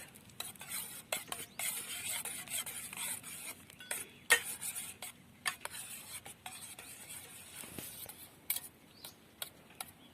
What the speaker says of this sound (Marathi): हे मसाले आता हांड्यामध्ये मिक्स करून घ्यायचे आहेत तर ते व्यवस्थित असे हलवले की ते मिक्स होतात